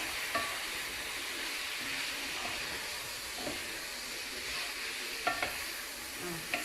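Food sizzles steadily in a pan while seasoning is stirred in, a soft continuous hiss with occasional faint scrapes and clicks from the utensil.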